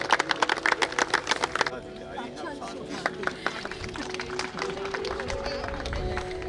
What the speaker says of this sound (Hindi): जरा तालियां बजाइए